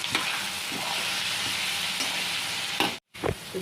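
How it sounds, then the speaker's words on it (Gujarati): Masala of coriander-cumin powder and chili sizzles steadily as it fries in a pan, with a spoon stirring through it; a brief silent gap comes near the end before the sizzle resumes. "થોડુંક ધાણા જીરું અને મરચું હવે હલાવી લઈ"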